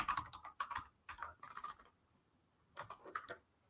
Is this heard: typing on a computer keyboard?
yes